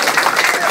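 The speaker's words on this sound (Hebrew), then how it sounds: "עוד הרבה כפיים גם לשון." A live audience at a rap battle bursts into a brief, dense round of applause and cheering, with a voice faintly mixed in.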